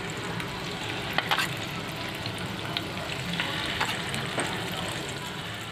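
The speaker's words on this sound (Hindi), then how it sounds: "चिकन के पीस को ऐसा अच्छे से क्रिस्पी जैसा फ्राई करके लेना है इसको।" Chicken pieces fry in hot oil with a steady crackling sizzle, punctuated by a few sharper pops and stirring sounds, close and moderately quiet.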